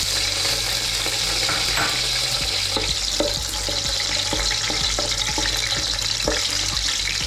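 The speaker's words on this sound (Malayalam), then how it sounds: "ആ നെയ്യും പിന്നെ ഓയിലും അതിനകത്തേക്ക് നമ്മൾ കുറച്ച് പച്ചമുളക് ഇട്ട് കൊടുക്കുകയാണ്" Green chilies frying in a mix of ghee and oil, a steady close crackling sizzle with light stirring scrapes and occasional ticks, continuous and fairly loud with no talk.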